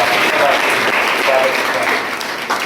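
At a college event, an audience gives loud, sustained applause to welcome a guest, a dense even clapping from the crowd that fades slightly toward the end.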